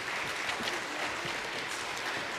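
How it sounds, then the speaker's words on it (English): A summit audience at a workforce conference applauds panelists and a moderator, producing a steady, faint wash of many hands clapping that continues evenly throughout without a break. "Let's give them another round of applause"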